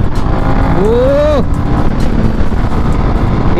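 Royal Enfield Himalayan 450 adventure motorcycle accelerating through the gears, engine pitch rising then dropping at a shift, loud and close over steady wind rush.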